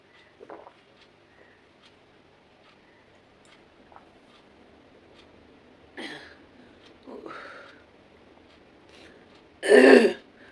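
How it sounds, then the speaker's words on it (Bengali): An elderly woman with a bad cough, lying in bed under a blanket, clears her throat and coughs in a few separate bursts. The last burst is the loudest and closest, and the room is quiet between them. "এত কাশি এত কাশি"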